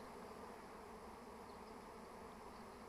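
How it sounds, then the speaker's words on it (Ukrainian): A soft, continuous buzzing drone of a honey bee swarm flying, faint and steady with no voices. "рій летить он звідти"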